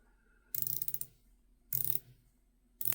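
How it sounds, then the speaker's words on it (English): Rotating bezel on a Tuseno Shellback v2 watch, turned in three quick bursts of crisp ratcheting clicks, close up and quiet, with silence between the bursts. "And also, by the way, the bezel action is outstanding."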